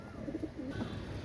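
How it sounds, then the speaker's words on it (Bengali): Pakistani teddy pigeons give a few soft, low coos in short rising and falling phrases, faint over a quiet background hum, with no talking. "ভিউয়ার্স কবুতরগুলো দেখেন, ইনশাল্লাহ আপনাদের ভালো লাগবে"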